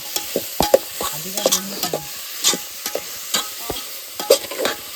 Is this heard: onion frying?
yes